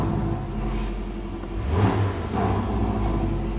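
A 2018 Porsche 718 Boxster with PDK gearbox and switchable sports exhaust revs, its engine note swelling briefly in the middle before settling back to a steady close hum.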